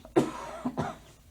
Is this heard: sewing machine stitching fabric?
no